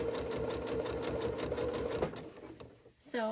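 A sewing machine runs a zigzag stitch along a leggings waistband without stretching the fabric, a fast steady rhythmic whirr for about two seconds that slows and stops. A voice begins speaking just at the end.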